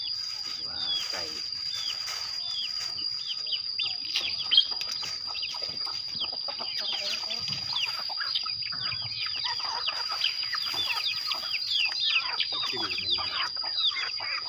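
A flock of chickens clucks and chirps continuously while being fed feed pellets and rice, with many close, overlapping calls and a faint steady background hum.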